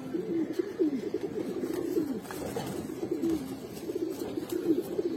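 Pankhi-fat pigeons coo in soft, repeated low rolling calls close by, steady for the whole stretch with no talking.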